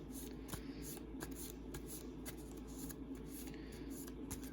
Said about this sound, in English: It's kind of hard to shuffle a deck that's so tiny.